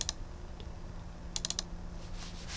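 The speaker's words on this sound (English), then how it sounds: "you can just start typing right here and then press enter" Short bursts of typing on a computer keyboard while composing in Microsoft Outlook 2019: a tap near the start, then a quick run of four or five keystrokes about midway, close and clear over quiet room noise.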